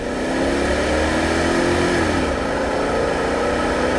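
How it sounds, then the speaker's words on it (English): A 1995 Chevrolet Impala SS with a 5.7 engine and factory exhaust hums steadily while accelerating harder, its tone rising then easing off, with continuous road and engine noise and no voices. "Roll into it one more time, a little heavier acceleration."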